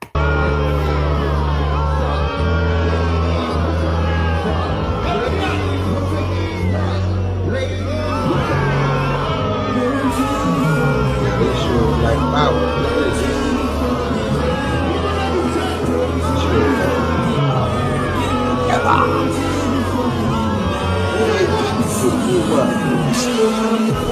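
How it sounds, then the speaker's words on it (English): A crowd boos Fat Joe, a sustained mass of jeering voices and yells that continues loudly throughout, with individual shouts rising out of the dense babble. "Oh, getting booed."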